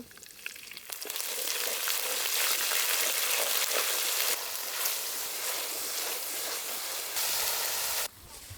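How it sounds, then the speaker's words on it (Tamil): Ginger garlic paste sautéing in a clay pot, a loud continuous sizzle with short pauses and stirring scrapes, starting abruptly after a quiet moment and cutting off near the end. "இஞ்சி பூண்டு சேர்த்து நல்லா வதக்கி விட்டாச்சுங்க"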